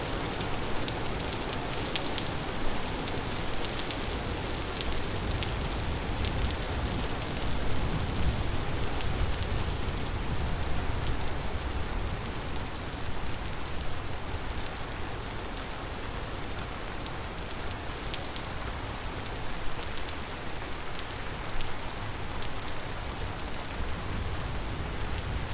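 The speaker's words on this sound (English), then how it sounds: "just a lot of loud rain." Loud, steady rain in the game Vintage Story, a dense unbroken hiss of drops on surfaces lasting throughout, close and enveloping with no pauses or voices.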